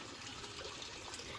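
Water from an RO purifier streams steadily into a water cooler, a continuous broadband rushing and splashing that fills the short stretch with no pauses and no voices.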